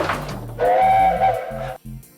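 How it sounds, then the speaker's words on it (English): A steam train whistle sounds from Thomas the Tank Engine, a single sustained tonal blast lasting about a second over rhythmic chugging rail noise. "also Thomas's whistle."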